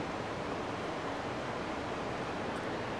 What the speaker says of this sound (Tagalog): may waterfall na naman dyan